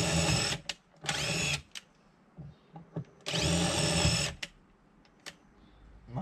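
A power drill bores a hole during a minivan camper build, running in two loud, close bursts with short taps and knocks between them.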